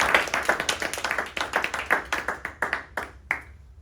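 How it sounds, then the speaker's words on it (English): Small audience applause at a Toastmasters open house, a modest group of distinct hand claps that thins out and fades to a few scattered claps before stopping. "Round of applause,"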